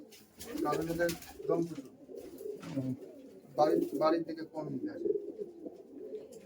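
Giribaz pigeons coo at a loft in Murshidabad, West Bengal, with soft, throaty calls in repeated bouts close by and a voice talking among them.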